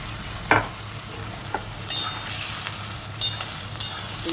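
Fried fritters go into bubbling gravy in a pan, producing a steady sizzle and bubbling with a few sharp splashing clatters and stirring scrapes, close up, with no one speaking.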